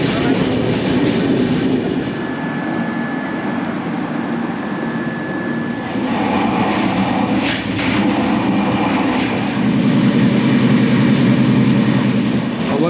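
Avadh Assam Express passenger train running on a long-distance journey, a steady loud rumble of wheels and carriage noise throughout, with faint voices now and then inside the coach.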